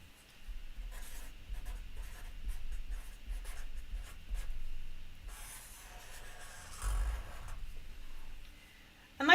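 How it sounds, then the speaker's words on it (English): A pen writes a word in the middle of a sheet of paper, the soft scratching strokes close but faint and coming in short intermittent bursts with small pauses. "I am going to go ahead and write grateful in the middle of my paper"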